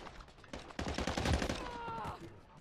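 Sustained automatic gunfire in a shooter video game, dense rapid bursts up close that build and stay loud for a couple of seconds with no speech over them.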